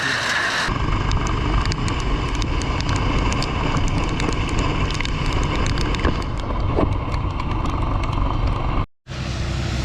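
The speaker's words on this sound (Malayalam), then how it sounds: "നല്ല മഴ കേട്ടോ ഇവിടെ." Heavy monsoon rain pours near Munnar on the Devikulam Gap Road, a loud, dense, unbroken roar of downpour that cuts out briefly near the end before resuming, with no voices heard.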